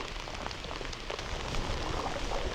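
Rain falls steadily onto lake water at Meadow Creek Park, a close, continuous patter with scattered individual drop hits that grows a little heavier partway through.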